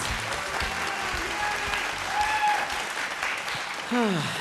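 A studio audience at a televised vocal competition applauds steadily throughout, a dense continuous clapping with a host's voice briefly heard over it near the end.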